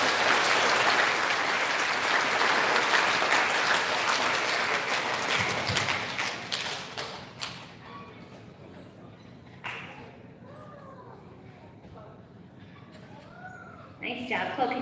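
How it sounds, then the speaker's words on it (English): Applause at an elementary school ceremony for third graders, loud and dense at first, then tapering off after about six seconds into scattered claps, shuffling and a few voices before a brief new burst. "Big round of applause for our third graders."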